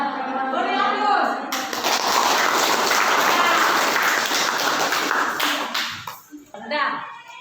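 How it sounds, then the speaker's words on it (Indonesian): A classroom audience gives a burst of applause lasting several seconds, dense clapping that follows speech and fades into talk. "Beri aplaus."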